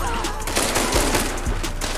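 Rapid gunfire from the Chapa weapon in an online shooter game, a dense continuous burst of loud shots with several sharper cracks, heard close and alone with no talk.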